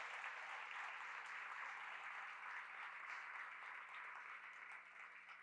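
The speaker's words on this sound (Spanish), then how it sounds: "¿Por qué no le damos un aplauso a Él?" Church congregation applauding during a sermon, a faint, even wash of clapping that holds steady throughout and sounds distant.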